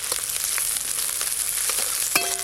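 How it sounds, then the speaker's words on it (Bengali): Chopped onion and two dried red chillies sizzle in hot mustard oil for drumstick-leaf frying, a close, steady crackle with small pops and a brief clink of a utensil near the end. "সর্ষের তেল, তেল গরম হয়ে গেছে, পেঁয়াজ কুচি দেব,"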